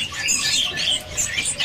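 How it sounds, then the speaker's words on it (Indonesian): Anis Cendana thrush in a bird market, giving a run of bright, rapid chirping and warbling calls, moderately loud and close, continuing without a break. "Ini ada burung Anis Cendana ya?"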